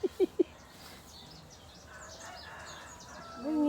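A rooster crows at a household puja ritual, giving three short, loud calls close to the microphone at the start, followed by distant birdsong and low background noise.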